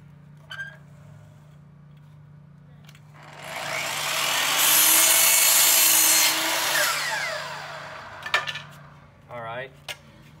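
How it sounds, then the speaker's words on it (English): A miter saw set to its 45-degree stop cuts through wood window trim, spinning up, biting loudly through the piece for a few seconds, then winding down, with handling clatter before and after. "So we'll put our outside edge along the miter saw. We'll move it to the 45-degree stop."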